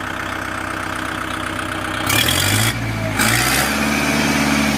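Kubota MU4501 tractor diesel engine running loud and close, idling then surging to full throttle in two bursts, with a steady low mechanical drone throughout.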